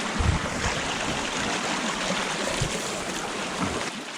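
A creek flows near the old Cashin Copper Mine in Paradox, Colorado, giving a steady, fairly loud rush of water that continues without a break and no talking over it.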